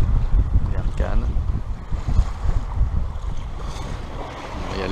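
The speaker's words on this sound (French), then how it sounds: "Il y a les vagues du vent," Wind-driven waves slosh against a boat at sea off the French Riviera near Cannes, with steady gusting wind buffeting the microphone and broadband water wash, loud and continuous throughout.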